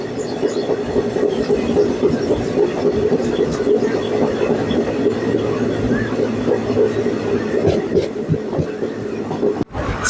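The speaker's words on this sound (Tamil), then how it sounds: "ஸோ அதால் ட்ரெயின் வந்து பார்த்தீங்கன்னா கொஞ்சம் ஸ்லோவாக தான் போயிட்டுருக்கு" A passenger train on the Erode to Mettur Dam line rolls slowly along the track, with a steady loud rumble, rhythmic wheel clatter and faint squeals heard from inside the carriage, and no talk.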